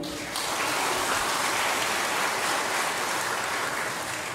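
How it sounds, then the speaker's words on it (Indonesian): An audience applauds for Pak Lukas after a women's choir performance, a dense steady wash of many hands clapping that starts abruptly and holds evenly throughout, with no talking over it. "Tepuk tangan untuk beliau."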